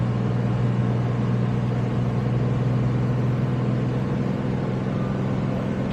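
A car engine pulls steadily uphill in a lower gear on the way into Numidia Dragway, a constant low drone with a mid-range hum and road noise throughout, close and alone.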